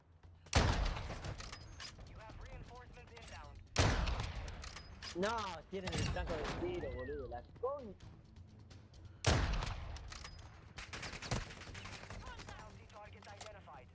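Sharp one-shot sniper rifle gunshots from a game ring out at irregular intervals, each with a loud crack and tail, amid mechanical clicks and whooshing effects.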